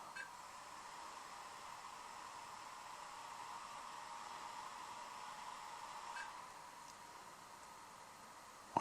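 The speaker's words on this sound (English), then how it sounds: "The fan of the projector has just kicked up a notch." A Qumi Q6 HD pocket projector's cooling fan whirs faintly and steadily nearby as a soft, even airy hum. Near the end there is a brief tap.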